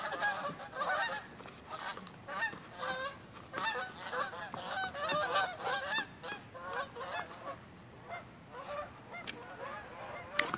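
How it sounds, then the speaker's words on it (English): A flock of geese honks continuously, many overlapping calls close by and fairly loud, with no talking in between. "Some geese."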